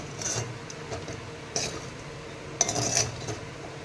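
A spoon stirs coconut rice with sambar masala in a pan, making soft scrapes and a few metallic clinks against the pan, close up and without talk.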